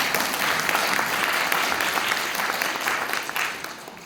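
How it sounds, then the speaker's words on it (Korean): Conference audience applauding at the opening ceremony of an academic meeting, a sustained, dense round of clapping from many hands, loud and steady before tapering slightly at the end. "강릉까지 들릴 만큼 한 번만 더 큰 박수 부탁드립니다"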